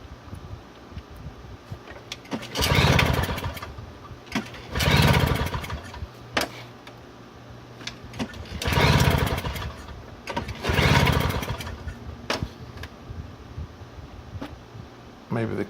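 A Toro CCR2000 snowblower engine cranks over in four separate bursts of about a second or two each, loud and close, failing to catch, with quieter pauses between attempts.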